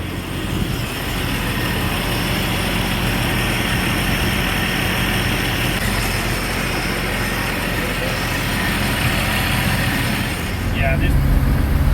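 A 1963 Chevy II engine idles steadily and close by, a continuous low rumble that holds even throughout, with a brief shift in tone near the end.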